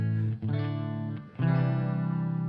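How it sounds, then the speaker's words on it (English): An electric guitar played through a Line 6 HX Effects unit plays sustained chords with a shimmering chorus and reverb, two strums ringing out with a brief dip between them. "I kind of wanted chorus and reverb."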